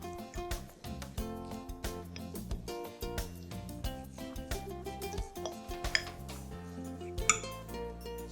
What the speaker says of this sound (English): we're going to stir it with a fork, mix it all together until it'll come together as a ball of dough